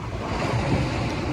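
Open sea surf rolling steadily against the shore, a continuous broadband wash of waves mixed with wind noise on the microphone, fairly loud and unbroken with no distinct individual breakers.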